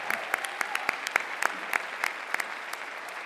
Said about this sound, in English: I'd say that deserves a clap.